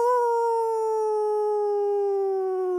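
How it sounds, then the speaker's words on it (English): A wolf lets out one long, clear, sustained howl that sinks slowly in pitch, loud and close with no talk over it, during a reading of Little Red Riding Hood. "Little Red Riding Hood heard a frightening howl"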